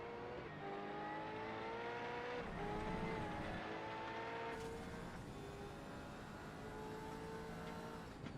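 A race car in iRacing at Watkins Glen drones at steady engine pitch, then shifts and slides as it skids and spins, with other cars' engines humming around it at moderate distance.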